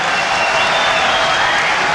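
A dense, steady roar of a large boxing crowd standing, cheering and applauding, loud and continuous with no pauses.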